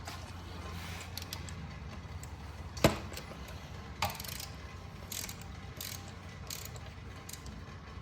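A ratchet with an extension works on radiator bolts of a Kawasaki KLX300R dirt bike, soft, rapid clicking bursts with a couple of sharper metallic knocks, faint and close.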